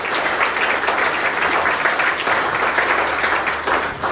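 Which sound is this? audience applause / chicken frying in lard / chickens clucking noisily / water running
audience applause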